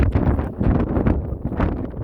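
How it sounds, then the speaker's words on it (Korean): Strong wind gusts across a mountain summit and buffets the microphone in loud, uneven bursts of low roaring rush, with no talking. "바람이 세게 불고 있다"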